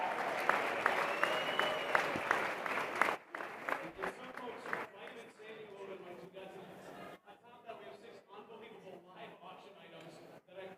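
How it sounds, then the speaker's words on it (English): Studio audience at a colorectal cancer research foundation gala applauding, a dense clapping wash that fades and thins toward the end, with some voices mixed in. "Studio audience, round of applause for the folks online making the contributions."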